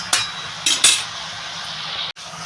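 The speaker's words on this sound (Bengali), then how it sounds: "আমি এবার এটা ঢাকা দিয়ে দেবো" A lid goes onto a pot of bottle gourd cooking in its own juices: a few sharp metallic clinks and clatters up close, then a quieter steady hiss.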